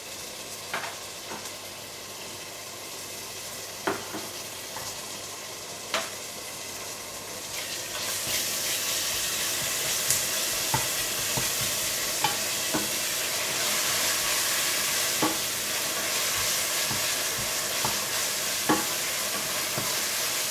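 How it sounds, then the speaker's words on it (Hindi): Steady sizzling of onions, ginger, garlic, cashews and green chillies frying in a pan, with occasional clinks of a spoon stirring; the sizzle grows louder partway through. "इसमें अदरक लहसुन, काजू और हरी मिर्चें डालकर भून लें"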